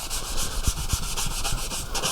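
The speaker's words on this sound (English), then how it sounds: "the foam fits the contour of the wood, so it makes it easier to sand it off" Foam sanding block rubbed over oak wood for a lantern, a close, steady back-and-forth scratchy rasp in quick repeated strokes, with no talk.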